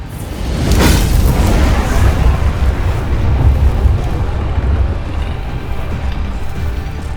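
A huge fire tornado in a science experiment roars as a loud, continuous rushing whoosh that swells and holds steady, with no talking.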